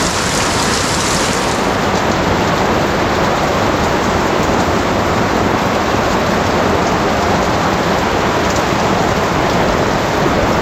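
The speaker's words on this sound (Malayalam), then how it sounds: "ഈ മഴയത്ത് ഒന്ന് മുങ്ങി." Heavy rain pours steadily through the forest of Periyar Tiger Reserve in Thekkady, a dense, loud, unbroken hiss of drops hitting leaves and ground that continues without pause.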